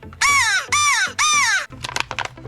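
A handheld crow call device imitates a crow, giving three loud, drawn-out harsh caws in a row, followed by a brief flurry of softer, choppy clicks and rattles.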